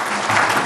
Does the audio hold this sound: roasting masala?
no